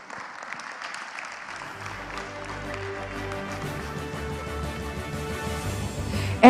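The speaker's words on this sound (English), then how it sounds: "Let's give a big round of applause for Ibu Nani." A conference audience at a G20 plastic pollution event claps for a speaker: the applause swells from light to full and steady, with faint tonal music underneath.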